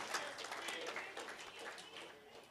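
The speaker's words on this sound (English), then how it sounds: "Round of applause" Faint, distant applause from a crowd at a football awards night, a steady patter of many hands clapping that continues throughout without pause.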